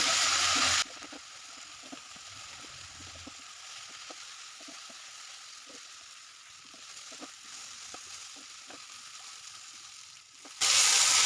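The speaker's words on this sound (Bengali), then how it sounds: "হাই হিটে সবজিগুলোকে একটু ভেজে চাউমিনটা দিয়ে দেবো।" Vegetables for chowmein fry in a pan over high heat, a soft, steady sizzle with light scattered crackles, framed by louder bursts of hiss at the start and end.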